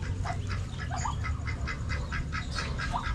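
A newly hatched Muscovy duckling peeps in a quick, repeated run of short, high calls, steady and fairly close over a constant background hum, with no talking.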